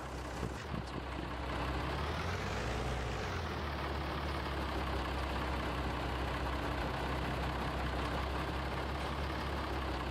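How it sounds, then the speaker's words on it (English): Tractor engine in Farming Simulator 22 running at a steady low drone, its pitch briefly rising and falling early on before settling into a constant, continuous hum. "because we are driving a tractor"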